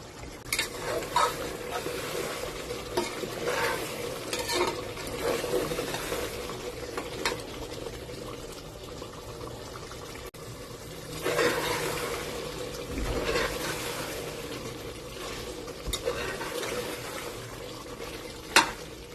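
Mutton korma frying and being stirred in a pot, with a spoon scraping at intervals through a steady, moderate sizzle that swells louder around the middle.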